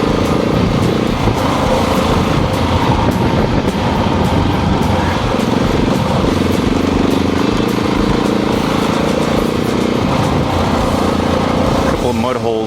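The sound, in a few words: KTM 690 motorcycle engine riding offroad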